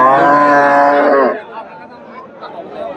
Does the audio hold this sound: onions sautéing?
no